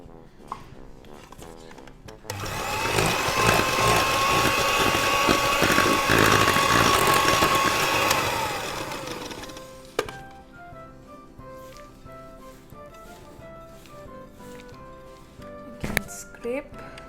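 An electric mixer beats apple streusel cake batter with milk, a loud steady whirring hum for about six seconds before cutting off, followed by light clinks and scraping in a quiet kitchen.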